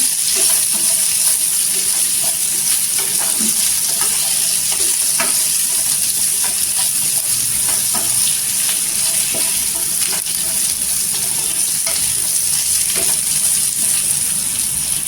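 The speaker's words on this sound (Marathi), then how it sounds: "कारली टाकली घ्यायची कडेला तेलावर परतून घ्यायचे" Bitter gourd sautés in oil in a pan beside a spiced vegetable dish, hissing in a steady close sizzle with light stirring scrapes throughout and no talking.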